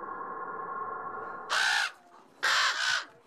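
Young ravens being hand-fed in a university lab near Vienna give two loud, harsh bursts of cawing, each lasting about half a second, over a steady low hum.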